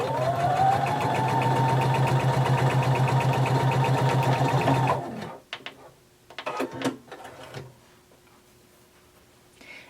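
A sewing machine stitches a fabric band seam, running steadily with a rapid mechanical whir for about five seconds, then stopping, followed by a few light clicks and handling taps.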